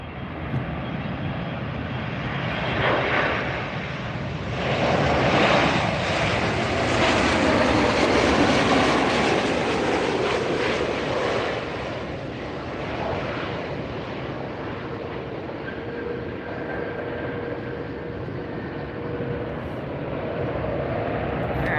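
A United airliner arriving at LAX, its jet engine noise swelling to a loud, sustained roar as it passes close by and then easing to a steady background rumble with wind noise.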